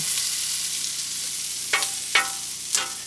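Potatoes frying in leftover bacon grease on an outdoor griddle at an off-grid cabin give a steady, close sizzle, with three short sharp scrapes or stirs near the end.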